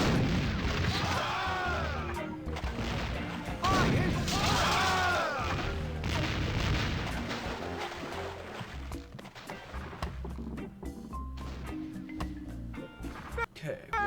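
Cannon fire in The Curse of Monkey Island, dense booming blasts layered over game music and effects, loud and sustained through the first half, then thinning out under continued background sound.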